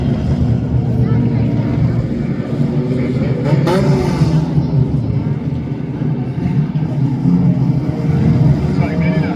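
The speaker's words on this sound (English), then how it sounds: "As our Sport Compacts set to go for the final race of the night." Sport compact race cars at Kankakee Speedway rumbling together at the start of the night's final race, a steady loud engine drone from a pack of cars throughout with no clear separate bursts.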